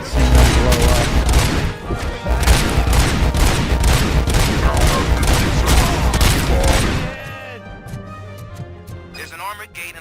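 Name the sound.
gunfire and explosions in video game RoboCop: Rogue City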